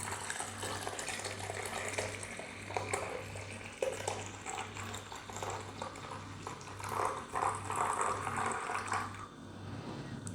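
Concentrated sugar-water carb drink is poured steadily into a bottle, a faint continuous trickling and splashing of liquid with a low steady hum underneath and no talking.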